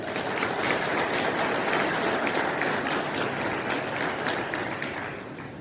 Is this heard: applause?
yes